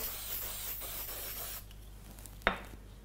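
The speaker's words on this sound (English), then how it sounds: "I just like to give it a light mist using this clear glaze spray." A fine aerosol spray of clear glaze hisses steadily for over a second onto a sugarcraft cake decoration, then stops; a short sharp click or puff follows near the end.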